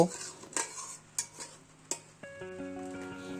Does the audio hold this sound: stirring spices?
yes